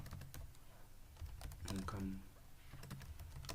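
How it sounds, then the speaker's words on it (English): Keystrokes on a computer keyboard as text is entered into a form in a school management system project, a steady run of close clicks with a voice talking over them. "I type income"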